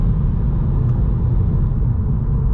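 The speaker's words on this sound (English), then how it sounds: "We'll whack it in sport mode because it increases the throttle response, I think, so it's quite quick." Volkswagen Scirocco engine in sport mode accelerating at night, a loud steady low rumble heard close from inside the car, with no talk.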